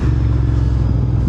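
A Royal Enfield Interceptor 650 motorcycle engine rumbles close and loud with a steady, deep throbbing idle that holds evenly throughout, with no voices over it.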